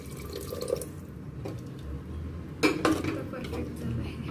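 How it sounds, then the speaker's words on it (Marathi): Water poured into a pot of chicken handi being cooked, short splashing and clinking of the pot and utensils, close by, with quiet background noise between the bursts. "आणखी थोडं पाणी टाकते."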